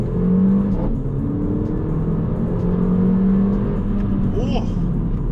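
Car accelerating hard in second gear with a manual shift and all-wheel drive bite, the engine note rising steadily and loud throughout, with a voice speaking briefly over it near the end.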